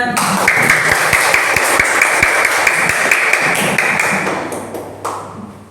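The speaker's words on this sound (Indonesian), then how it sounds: "Oke, tepuk tangannya." A classroom audience claps together after a group presentation, a dense, steady patter of many hands at close range that holds for several seconds, then thins out and fades toward the end.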